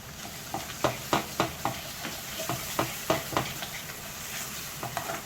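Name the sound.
sauteing masala with curd in pan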